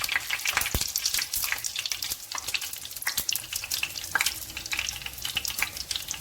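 Chicken and potato cutlets fry in oil over medium heat, giving a steady, dense sizzle with scattered crackles and pops close by, continuous throughout with no talk.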